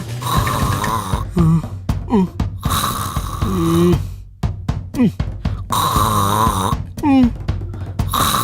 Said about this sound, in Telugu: మీ అమ్మ గురక పెడుతుందా, గూడ్స్ ట్రైన్ నడుపుతుందా?